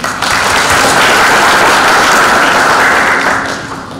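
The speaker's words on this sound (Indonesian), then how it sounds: "Tepuk tangan untuk kita semua." Loud, dense applause from a crowd at a university graduation ceremony, sustained and even before tapering off slightly near the end.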